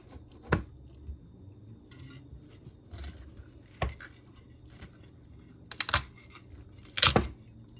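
Cassava is cut into pieces on a board in a quiet kitchen, giving a few sharp, separate knife taps and thuds at uneven intervals, with soft scraping and handling sounds between them.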